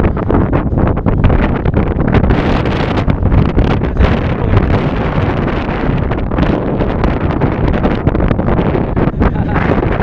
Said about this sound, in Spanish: Duro porque el viento es muy fuerte.